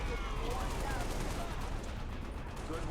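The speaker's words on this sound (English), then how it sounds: "this is just a normal assault rifle" Rapid automatic assault rifle fire in the shooter game Halo Reach, a dense quick stream of shots at low level, with voices faintly underneath.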